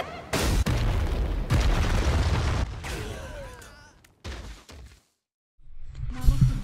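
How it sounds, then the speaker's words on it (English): Nelliel's soul bomb attack in Bleach Brave Souls, loud game blasts and booming impacts in quick succession with shimmering crackle, cutting to silence before more rumbling effects return. "And as for her soul bomb"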